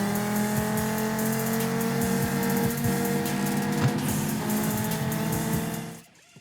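Car racing in an Android video game played on PC through BlueStacks: a steady loud engine drone with tire squeals and small bumps, cutting out abruptly near the end.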